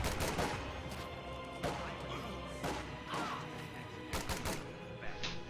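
.50 cal machine gun fire in a World War II strategy game battle, a string of irregular heavy bursts and crashing impacts spread across the span, fairly faint and mixed with other explosions.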